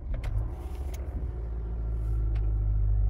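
A 2024 Honda City Hatch Touring starts from its push button, a low engine rumble rising and settling into a steady idle after a few faint clicks, heard close with no talking.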